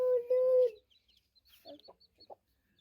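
A hen that has just hatched chicks gives a loud drawn-out cluck, followed by soft scattered peeps and clucks as she is lifted aside.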